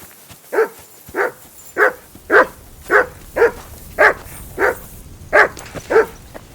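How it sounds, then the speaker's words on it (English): In the video game Kingdom Come Deliverance 2, a dog barks about ten times in an even, steady rhythm, each bark loud and close, with quiet ambience between them. "Call off that damn dog before he wolfs down the last of our mates."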